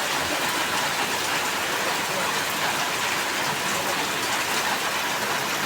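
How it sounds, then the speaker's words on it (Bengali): Heavy rain pours down over a flooded field where ducks play, a loud, dense, unbroken roar of downpour that holds steady throughout. "দেখুন কি পরিমাণ বৃষ্টি,"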